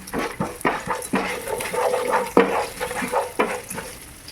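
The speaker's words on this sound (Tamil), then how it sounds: "தேவையான அளவு பூண்டு, சின்ன வெங்காயம், நல்லா இது வறுத்து எடுத்துக்கலாம்." Garlic and small shallots are dry-roasted in a pan for a pepper kuzhambu, with irregular scraping stirs and a soft crackling sizzle, close and moderately loud with no talking.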